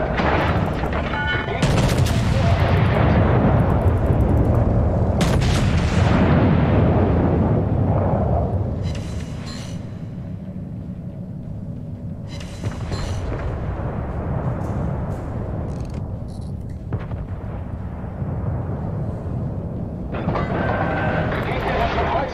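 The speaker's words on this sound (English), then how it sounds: "All stations, concentrate fire on the target." Warship main guns firing in World of Warships, heavy booming salvos and rumbling explosions that roll on continuously, loud and close, with voices heard briefly among the blasts.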